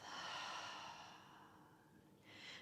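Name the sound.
exhaling out through the mouth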